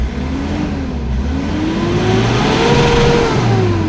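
A 2011 Mitsubishi Montero with an automatic transmission revs its engine up toward 4,000 RPM, the loud, close engine note climbing steadily in pitch as it accelerates, with no speech over it.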